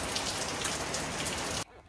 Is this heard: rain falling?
yes